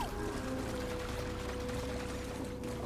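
Flowing water rushes in Star Wars Jedi Fallen Order as a steady, dense wash of noise with a constant low hum beneath it, continuous and unbroken.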